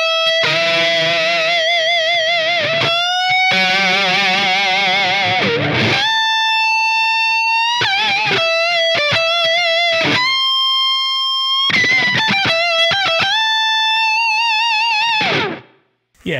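An electric guitar played through a Line 6 Helix modelling an Orange Rockerverb 100 MkIII amp with extra drive: long, sustained distorted notes with vibrato and bends, separated by brief pauses, ending with a sudden cut to silence.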